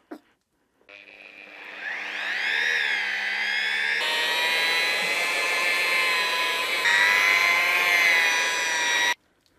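A lamb's wool mop loaded with Polar Shine 10 compound polishes a 91-inch epoxy river table, a steady, loud rotary whine with strong tonal harmonics that runs continuously for about eight seconds after a brief click.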